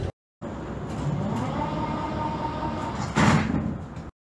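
Sliding doors of an 81-71M metro train closing at a station, a steady mechanical rumble with a louder thump near the end before cutting to silence.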